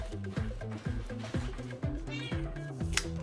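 A cat meows repeatedly in a quiet room, a string of short, soft cries in a loose rhythm, heard faintly and without talk.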